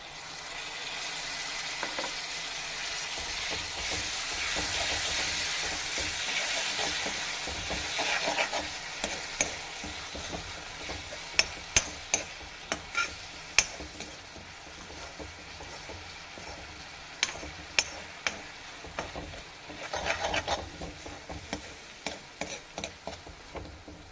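Tomatoes and green chillies fry with spices in a hot pan for aubergine bharta, giving a steady close sizzle broken by sharp stirring clicks and scrapes that grow more frequent toward the end.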